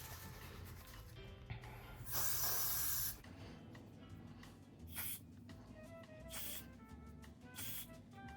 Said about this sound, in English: I'm just going to spray right along where the wig cap and the hairline is